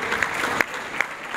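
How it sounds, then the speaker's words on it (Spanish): Applause from an audience at a radio announcers' anniversary event, a dense patter of many hands clapping with a few sharper claps standing out, moderately distant. "un fuerte aplauso para ella"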